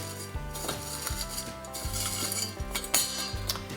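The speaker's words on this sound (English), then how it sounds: "I'm just going to put all of these ingredients in this quart jar" Dried herbs, pumpkin seeds, cloves and walnut hulls tipped through a funnel into a glass quart jar, giving a run of light clinks, taps and rattles close up, with no voices.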